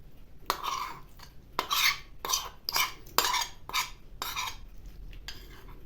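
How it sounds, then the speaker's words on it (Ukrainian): A spoon stirs slaked lime into water briskly in a container, scraping in a series of regular swishing strokes, roughly one per half second, close and clear. "Перемішую."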